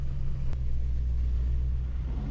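Ford truck driving along, a steady low engine rumble heard from inside the cab, continuous and fairly loud with no talk.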